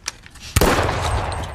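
A single sharp pistol shot cracks out loud and close, followed by a long ringing echo that slowly dies away, with no voices.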